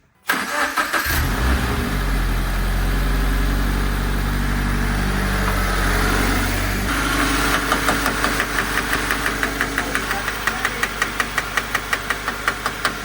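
A stock Subaru BRZ idling inside a garage after a cold start, the engine note steady and close at first, then settling into an even, rhythmic pulsing throb that carries through to the end, with no talking.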